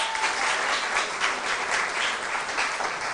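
Audience applause at a school quiz show after scores are read; loud, dense, continuous clapping from a crowd, even in level throughout.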